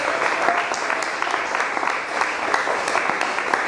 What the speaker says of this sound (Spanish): Bríndele un fuerte aplauso al Señor.